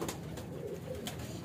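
Kasoori pigeons coo softly and continuously in the background, a low murmuring bird sound with no voices.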